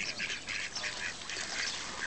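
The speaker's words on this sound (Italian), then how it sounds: "Eccomi qua a fare il filmato alle anatre" Ducks chasing thrown breadcrumbs at a lake, with a busy, steady chatter of quacking and bird calls carrying across the whole stretch at moderate distance, no voices.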